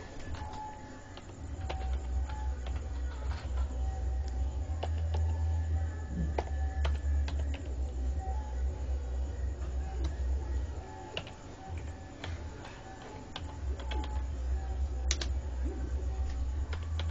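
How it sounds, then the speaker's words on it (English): Typing on a computer keyboard: a long run of quick, irregular key clicks at moderate loudness over a low steady hum, with brief pauses between bursts. "let's type."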